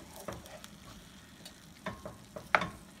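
Shrimp and fresh vegetables sauté in a hot pan with a low, constant sizzle, punctuated by several soft scrapes and stirs and one sharper clatter of a utensil near the end.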